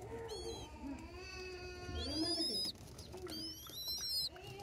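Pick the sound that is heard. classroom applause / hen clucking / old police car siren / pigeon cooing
pigeon cooing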